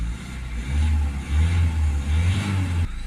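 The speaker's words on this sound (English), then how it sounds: "So we'll just hold some revs on it, get the temperature up." A Citroën Berlingo 1.5 diesel van with an AdBlue warning fault holds steady raised revs, a deep continuous drone that swells and eases slightly before dropping back near the end.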